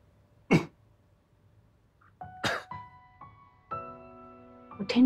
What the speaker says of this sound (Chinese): 我听着怎么你也咳嗽呢？